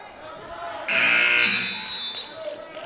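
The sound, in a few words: loud basketball game buzzer in the gym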